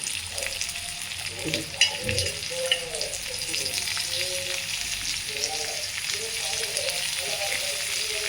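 Long-sliced onion fries in a pan with a soft, steady sizzle. A few clanks and scrapes from stirring come through near the start, and faint tonal background sounds run beneath.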